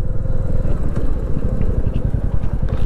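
A motorcycle rumbles along a rough mountain road in Lower Mustang, Nepal, its engine a loud steady close drone with wind buffeting throughout.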